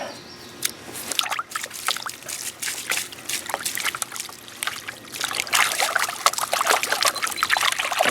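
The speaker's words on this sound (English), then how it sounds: "So I have to really wash this a lot." Muddy yellowroot roots being washed by hand in water, with steady trickling, dribbling and splashing sounds close by that grow a little louder and busier toward the end; no talking.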